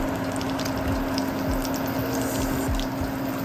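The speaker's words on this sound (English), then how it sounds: "frying it in my oil" Chicken parmesan frying in oil heated near its smoke point, a steady close-up hiss and low bubbling with a few soft pops and sizzles, no voices.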